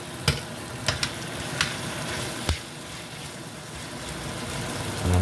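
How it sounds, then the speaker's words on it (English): Grace butter beans stirred in a pot during Jamaican home cooking, with a steady bubbling simmer and a few soft scrapes and knocks from the spoon. "Just gonna stir this around a little."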